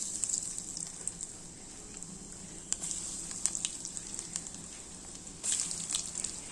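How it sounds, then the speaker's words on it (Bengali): Bread ball baby burgers deep-frying in oil over a medium flame, a steady close hiss with faint crackles and small pops throughout, slightly louder near the end. "ভেজে নিতে হয় ডুবো তেলে"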